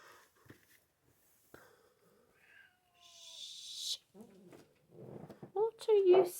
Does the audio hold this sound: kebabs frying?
no